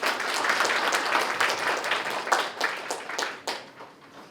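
A hall of teachers at a Daejeon education office training session applauds to welcome a high school math teacher as speaker, with many hands clapping in a dense, continuous patter that tapers slightly toward the end.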